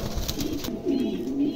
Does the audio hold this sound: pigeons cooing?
yes